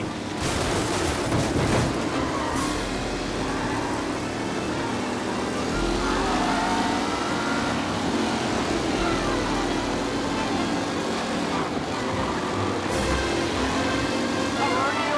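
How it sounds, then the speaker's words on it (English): Race cars roaring around a track in the video game Mafia: Definitive Edition, their engines a continuous, loud, unbroken drone that persists for the full stretch, with a few sharper bangs near the start and end. "The race leaders roar into the second lap"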